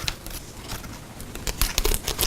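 Slightly bent scissors snip and tear through kaizen foam being cut away for gun and tool inserts, a dry crinkly ripping that builds into denser, louder cutting bursts toward the end.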